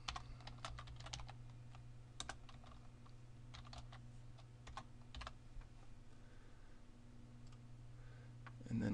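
Someone types a short word on a computer keyboard while editing a video shots project, a run of quiet close key clicks in small bursts over a steady low room hum, with no one talking.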